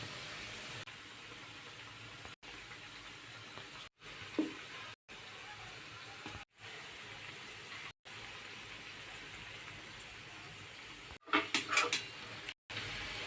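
Mung dal pitha frying in oil on medium heat, a soft continuous sizzle broken by several brief silent gaps, with a short burst of clatter near the end.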